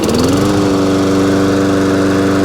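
A riding lawn mower engine runs loud and close, settling within half a second into a steady idle with an even, rapid throb.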